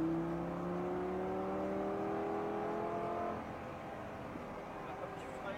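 Lamborghini Gallardo with automatic paddle-shift gearbox driving on a race track, a smooth engine drone whose pitch climbs steadily as it accelerates, then drops and settles lower, with faint talk underneath.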